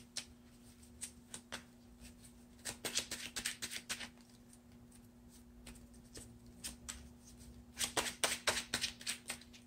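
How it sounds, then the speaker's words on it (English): A deck of trading cards is shuffled by hand close to the microphone: quiet clusters of quick riffling slaps and taps, with pauses between runs and a bigger burst near the end. "I have to actually shuffle this up."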